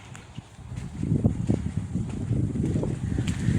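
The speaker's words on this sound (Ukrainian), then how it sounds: "Зараз вітряна погода можливо, буде погано чути" Low, blustery wind rumble buffets the microphone throughout, a steady muffled roar with occasional thumps and no clear voices.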